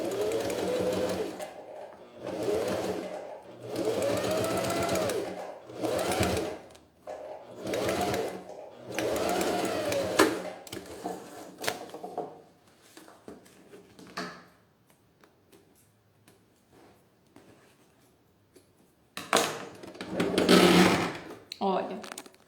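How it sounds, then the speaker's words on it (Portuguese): A sewing machine stitches clear plastic for a beach vanity pouch with a see-through window, running in a string of short, steady bursts, then a long pause before one final run. "Quem tiver dificuldade de costurar o plástico nesse momento"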